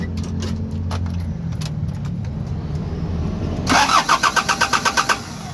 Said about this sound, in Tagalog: bali na isalpak na natin yung starter. Try na natin, testing kung okay na siya.